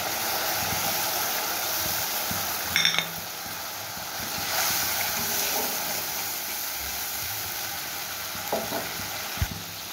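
Mustard paste sautéing in a pan for a Bhola fish curry, a steady low sizzle and hiss throughout with a few faint stirring clinks, quiet and close with no talking.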